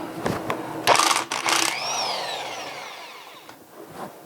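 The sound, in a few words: wrench removing bolts from diesel engine oil pump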